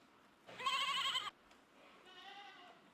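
Goats on a farm bleat loudly nearby, one strong quavering cry followed after a short pause by a softer, longer bleat from another animal, with no talking over them.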